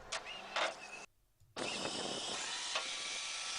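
Chainsaw on a tree harvester head cutting through wood: a steady, distant, rasping whine that briefly drops away and then returns at full strength, sustained and fairly faint, with no voices.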